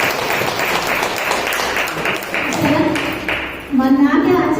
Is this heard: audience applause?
yes